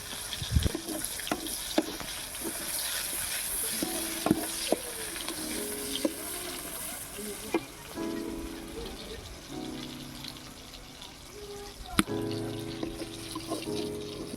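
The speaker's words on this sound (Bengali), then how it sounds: "পেঁয়াজ কুচিটা ভালো করে আমি লাল লাল করে ভেজে নেব" Chopped onion frying in mustard oil, a soft sizzle under occasional sharp clinks and scrapes of stirring, fairly quiet and close with faint background talk.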